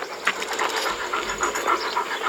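A Kangal dog pants steadily and close by, a rapid breathy rhythm running through the whole stretch, with no talk over it.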